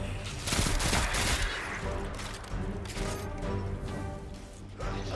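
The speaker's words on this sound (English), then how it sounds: "So I love these fast pulse rifles." Rapid pulse rifle fire in the video game Destiny 2, dense repeated bursts of gunfire running throughout at steady loudness with busy game effects layered in.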